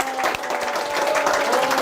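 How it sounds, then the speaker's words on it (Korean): An audience at a forum applauds steadily for under two seconds as a speaker is introduced, dense clapping with a faint tonal hum underneath, cutting off abruptly at the end. "박수로!"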